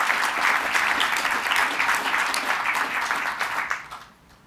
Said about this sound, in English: How about a round of applause for the people responsible for these videos?